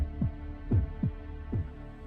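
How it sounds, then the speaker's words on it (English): A deep, throbbing heartbeat from a living castle in the game Fate/Grand Order, four low thumps spaced unevenly over a steady hum, close and resonant with no speech over them. "does it sound like the castle has a heartbeat?"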